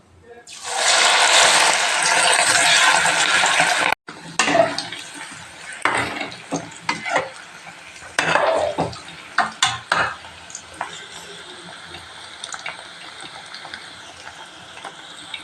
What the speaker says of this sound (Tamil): இப்போ நம்ம ஆயில் காஞ்சிட்ருக்கு அதில் இதை ஃப்ரை பண்ணிக்கலாம்